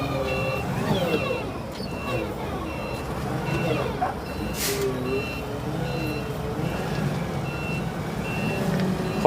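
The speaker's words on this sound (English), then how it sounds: "That's a forklift right there." A forklift's reversing beeper repeats steadily over the rumble of truck engines and air brakes in a hardscape supply yard where trucks are being unloaded, with a voice talking.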